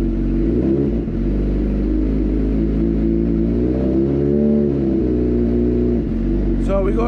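A Suzuki GSXR 600 motorcycle engine revs steadily up close, its pitch rising and falling in a sustained, loud drone throughout.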